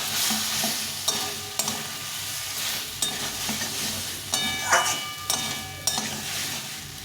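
Potatoes are stir-fried in spice masala, with a continuous sizzle under repeated metallic clinks and scrapes of a spoon against the pan at an uneven rhythm.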